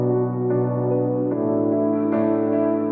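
Bright, unfiltered piano chords with the high end left in, played in a sustained, fairly loud electronic-music style, changing chord every second or so with no voices.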